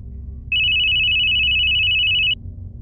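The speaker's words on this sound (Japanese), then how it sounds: "静かな空間に着信音が鳴り響く。" A mobile phone ringtone sounds in a quiet space: one steady, piercing electronic tone lasting nearly two seconds, loud and clear over a low background hum.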